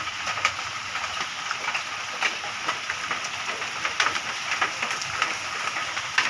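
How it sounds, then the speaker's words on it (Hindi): Heavy rain pours down during a fierce rainstorm, a dense, steady hiss with scattered sharper drops and patters. It sounds close and continuous, with no voices. "बहुत ही तेज़ बारिश हो रही है"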